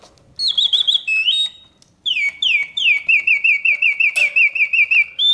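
Vintage Reuge mechanical singing bird cage playing its song: bright, high whistled warbles and trills, one phrase, a short pause, then a long run of repeated rising chirps, loud and close with no talk.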